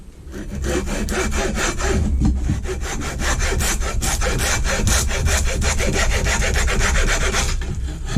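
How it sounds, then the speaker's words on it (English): A standard hacksaw rasps back and forth in steady, rapid strokes, loud and close, with continuous cutting noise and no talking. "This is a normal hacksaw, no special blade, just a hacksaw."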